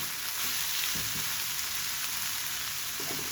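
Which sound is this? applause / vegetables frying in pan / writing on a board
vegetables frying in pan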